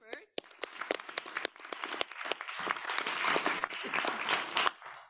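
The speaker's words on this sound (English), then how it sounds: "We'll clap first." Audience applause following a talk by former Irish President Mary Robinson at an intergenerational triennial event, building from scattered claps into sustained, dense clapping that swells and then breaks off near the end.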